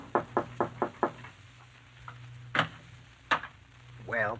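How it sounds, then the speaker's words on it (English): Five quick knocks on a door in an old-time radio mystery drama, a steady close rapping over a low hum, followed by a few scattered softer thumps and a brief voice. "you go upstairs and knock on the door"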